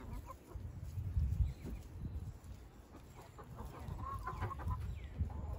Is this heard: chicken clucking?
yes